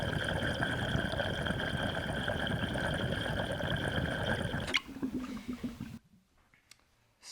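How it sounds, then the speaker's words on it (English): Water sloshing and bubbling inside an XL double-diffused Juggernaut water pipe, a dense continuous gurgle close up that cuts off abruptly, leaving a few faint clicks and quiet rustles. "you can really hear the water volume moving in the Juggernaut"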